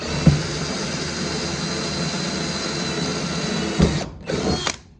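A power drill whirs steadily and loudly for about four seconds while boring a pilot hole in wood for a screw, then stops briefly and spins up again in a short burst.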